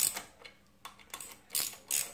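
Tightening 14 mm bolts on a Troybilt pressure washer pump with a ratchet, giving short bursts of rapid clicking and light metallic scrapes, close and quiet with no voices.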